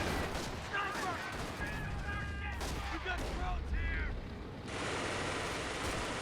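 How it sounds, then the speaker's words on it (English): A .30 cal machine gun rattles in a Company of Heroes battle, sustained bursts of fire under a dense backdrop of battlefield noise, with faint voices and other game sounds mixed in. "Now it's a 30 cal from the off-map combat troop that Tommy purchased."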